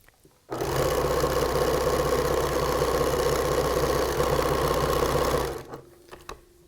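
A sewing machine stitches a T-shirt quilt seam in one continuous, steady whirring run of about five seconds, starting abruptly and slowing to a stop, with quiet handling sounds after.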